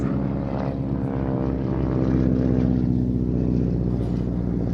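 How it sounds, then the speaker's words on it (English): Propeller-driven aerobatic aircraft performing at a live air show, with a blue plane carrying a wingwalker; a steady, loud drone of engine and propeller holds throughout with no talk. "now, the girls are, that's Emma on the blue aircraft"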